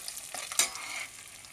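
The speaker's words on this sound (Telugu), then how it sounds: "నెయ్యి వేసి ఇందులో ఇవన్నీ వేయించుకుంటాం" Ingredients frying in ghee in a pan for pumpkin halwa, a soft continuous sizzle with stirring scrapes and one brief sharper crackle partway through, close and fairly quiet.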